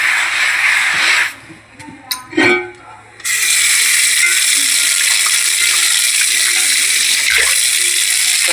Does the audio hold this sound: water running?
yes